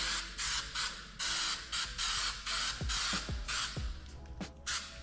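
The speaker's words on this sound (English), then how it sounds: "Don't be shy to spray this adhesive." Spray adhesive hisses from an aerosol can during a custom motorcycle fairing build with carbon fiber, in a series of short bursts with brief pauses between them, close and fairly loud.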